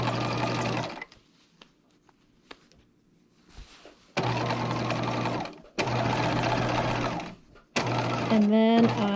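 A sewing machine stitching a dress seam runs in short bursts of steady motorized whirring, stopping between runs, then a quick back-and-forth backstitch at the end, close and clear, with a voice speaking during the pauses.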